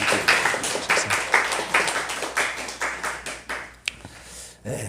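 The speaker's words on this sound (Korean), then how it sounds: "박수로 환영해 주시죠" A church congregation claps in welcome for a guest evangelist, a fairly close rhythmic burst of hand claps in a steady beat that thins out and stops near the end.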